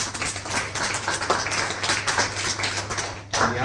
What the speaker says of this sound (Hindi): एक बार और तालियां।